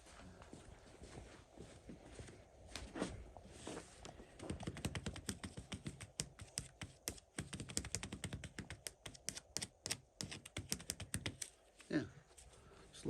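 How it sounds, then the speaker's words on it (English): Quick light clicking taps of paper clips on wood, patterned like a dog's footsteps pattering across a floor, close and fairly quiet. "I use these paper clips for dogs' feet"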